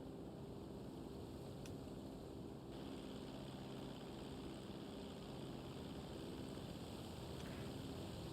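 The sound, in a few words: airplane flying in snowy weather, from video game GTA Online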